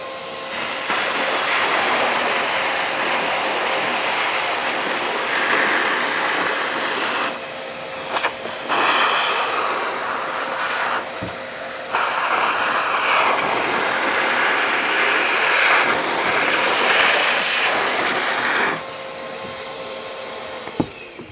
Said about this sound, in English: we need to get rid of it, so we'll vac it up